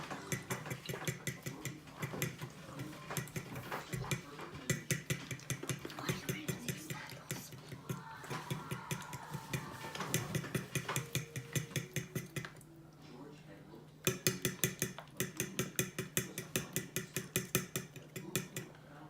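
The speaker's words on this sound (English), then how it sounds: "So now we're just going to beat the eggs." Eggs for homemade pasta dough being beaten in a bowl, a fast, steady rhythm of close, bright clinks of a utensil against the bowl that runs almost continuously, pausing briefly once before resuming.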